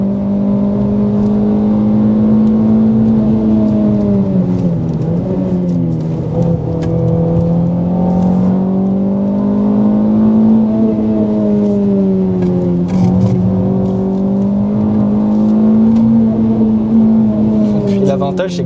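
A Renault Clio 3 RS F1 Team engine revs hard and continuously, its pitch rising and dipping as the revs climb, loud and close from inside the car.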